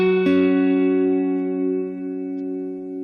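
A single guitar chord from a worship song tutorial is strummed once and left to ring, its sustained tones slowly fading with a warm, effected reverb tail.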